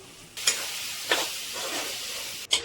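Mutton and onions fry in a pan, a steady sizzle broken by a few scraping stirs of a spoon against the metal, close and fairly quiet, with no speech.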